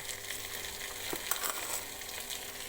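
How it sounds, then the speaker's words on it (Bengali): Whole garlic cloves drop into hot oil and fry with a steady, close crackling sizzle that holds evenly throughout, a few sharper pops rising near the middle, with no voices. "এখন আমি একটু আস্ত রসুনের কোয়াগুলো ছেড়ে দিলাম"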